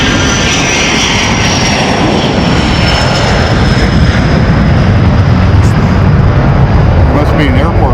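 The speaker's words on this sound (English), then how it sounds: "That was a Falcon jet that just took off." A Falcon business jet takes off at Bremerton National Airport during an AOPA fly-in, making a loud, continuous, close roar with a high turbine whine that holds steady throughout.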